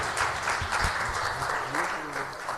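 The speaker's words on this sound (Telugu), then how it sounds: "అందరూ చప్పట్లు కొడుతూ ఒకసారి ప్రభు నామాన్ని మహిమపరుద్దాం." Congregation at a church edification meeting clapping together, a steady dense wash of hand claps sustained throughout, fairly close and even in loudness with a faint murmur of voices underneath.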